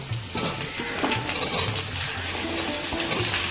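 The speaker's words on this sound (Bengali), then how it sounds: "এরপর আমি এর মধ্যে কুমড়ো আর ডাটাগুলো দিয়ে ভালো করে কষব" Pumpkin and Malabar spinach stalks being sautéed with fried onion in a pan for a pui shak chorchori, a steady close sizzle broken by stirring scrapes and light clinks of a utensil against the pan.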